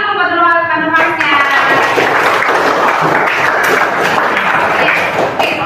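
Students applaud a speaker after a talk on muscles and sport; a brief tonal sound gives way to sustained, fairly loud clapping from a group, with faint voices underneath.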